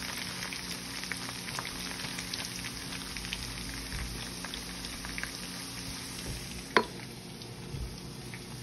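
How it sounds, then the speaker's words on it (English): Bacon cooking in hot oil for breakfast burritos, giving a steady dense sizzle and crackle with a few sharper pops, close and continuous, with no one speaking. "Letting this cook through the oil,"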